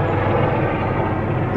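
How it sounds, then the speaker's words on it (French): A helicopter flying low, a loud continuous rotor and engine drone that stays steady and close throughout. "Oh, c'est un hélicoptère!"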